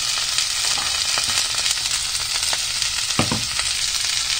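Zucchini lands in a hot pan of fried chili and garlic, and a loud, steady sizzle carries on throughout, with a few stirring scrapes partway through.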